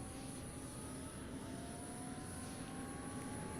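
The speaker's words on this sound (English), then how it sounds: "Let's turn on the engines." A steady, droning fighter jet engine hum from a flight simulator game, with a constant high whine layered over broad rumbling noise, continuous and even throughout with no talking.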